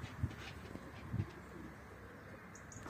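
A pigeon coos quietly nearby, a few low soft hoots in a short phrase, with a faint chirp from another bird toward the end.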